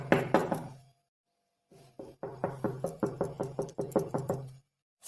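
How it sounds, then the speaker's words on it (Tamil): Knocking on a door in a home, a quick burst of close raps, a short silence, then a longer steady run of about a dozen evenly spaced knocks, sharp and prominent with no talking. "யாருக்காவது தட்டுறாங்க"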